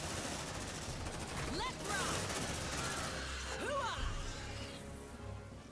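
Sentry gun turret firing bullets in the video game Aliens Dark Descent, bursts of rapid gunfire set fairly low under game ambience and effects, with brief swooping tones around the shots.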